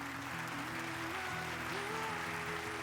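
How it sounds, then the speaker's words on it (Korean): An audience at a Christian gospel gathering applauds as a pastor is welcomed to the stage. The clapping is moderate and continuous, under sustained background music. "여러분 큰 박수로 맞이해 주세요."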